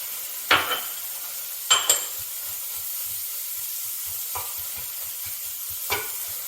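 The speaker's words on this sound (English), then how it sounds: "Then what you do is just put the spinach in as well." Spinach added to a pan of onions that are already frying, with a soft steady sizzle underneath and a few sharp scrapes and knocks from a utensil stirring the greens, all close by.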